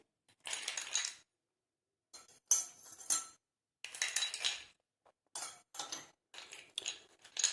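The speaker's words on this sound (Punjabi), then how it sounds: "ਸਭ ਤੋਂ ਪਹਿਲਾਂ ਆਪਾਂ ਨੇ ਆਈਸ ਕਿਊਬ ਲੈਣੇ ਆ ਜੀ" Ice cubes being dropped into a glass, several bright rattling clinks in separated bursts with silent gaps between, close and clear.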